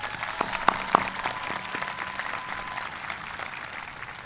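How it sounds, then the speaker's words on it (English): Applause from a commencement audience at a high school graduation ceremony, a steady spread of clapping lasting several seconds, with a few sharp tones near the start and a faint hum underneath. "That deserves a round of applause right there."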